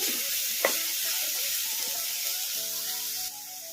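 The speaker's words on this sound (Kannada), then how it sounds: "ಟೊಮಟೊ ಮೆತ್ತಗಾಗೋವರೆಗೂ ಈ ಥರ ಕಲಿಸ್ಕೊಂತ ಫ್ರೈ ಮಾಡ್ಕೋಬೇಕು" Tomatoes fry over a medium flame in a pan for carrot chutney, giving a steady, close, bright sizzle. A single scrape of stirring cuts in early, and the hiss carries on evenly throughout.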